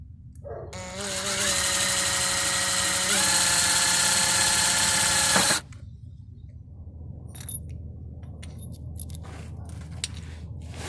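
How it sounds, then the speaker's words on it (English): A power drill pre-drills a hole on a 1971 Volkswagen high-roof bus, whining steadily for a few seconds with a rising pitch step midway, then stops abruptly, leaving faint clicks and handling noise. "Do a little pre-drill here."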